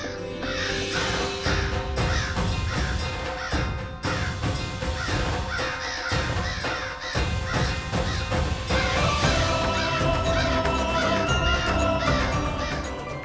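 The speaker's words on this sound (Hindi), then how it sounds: "काक तो आ गए" Crows cawing repeatedly and loudly, harsh calls overlapping in a dense chorus with steady background noise beneath them.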